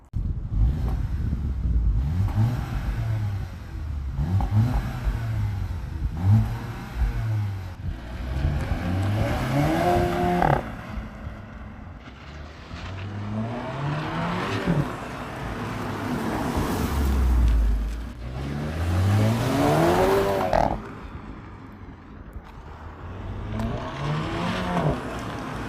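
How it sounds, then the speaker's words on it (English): A VW Golf 7 GTI heard from the cabin while driving, its exhaust rising and falling through repeated accelerations and gear changes, with steady road and wind noise underneath. "Let's actually take a listen to the exhaust and experience how this thing drives."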